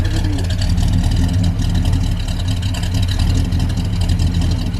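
A Ford Falcon XC Cobra barn find runs steadily for its first start in six years, its engine giving a loud, close, continuous rumbling idle with no talk over it.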